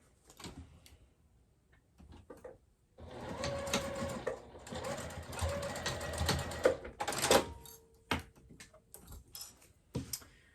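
A sewing machine whirs and clatters in steady bursts stitching a fabric wristlet pouch at a quarter-inch seam, starting after a few quiet seconds and stopping with short gaps near the end.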